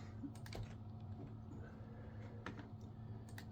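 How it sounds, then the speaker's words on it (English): Quick, irregular clicking of keys on a computer keyboard as a VIN for a 2024 Ford F-150 is typed in, light taps in short bursts over a quiet room. "Then you got to type in the VIN."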